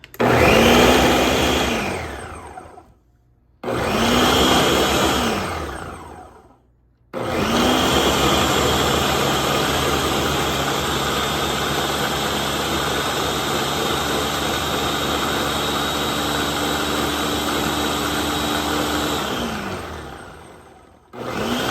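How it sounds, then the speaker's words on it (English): A kitchen blender grinds spinach in loud sustained bursts, two short pulses followed by a long steady run of whirring motor noise with no talk. "I just wanted to make sure I had grinded up the spinach really good"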